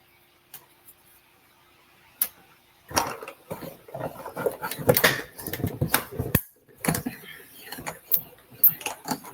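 A die-cutting machine rolls paper through to cut out two die-cut pieces, a close, busy run of mechanical clicks, ticks and grinding rumbles after a few quiet seconds.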